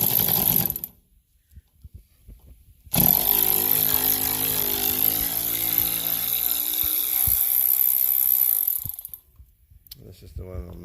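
Hand ratchet backing out screws on the fender of a 2014 Volvo C70 T5 during a repair, a steady close run of fine clicking over about six seconds between stretches of near silence, with faint broadband hiss throughout.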